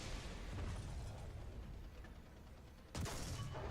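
Bombs explode in a War Thunder aerial attack, heard as a continuous rumbling, crackling roar with no talk. A sharp new blast cuts in near the end.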